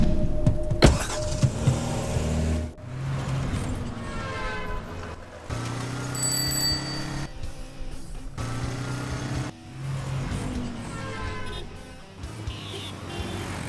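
A car on the road in a Hindi-dubbed movie scene, with a steady engine and road rumble running throughout, fairly loud, with brief shifts and breaks in tone.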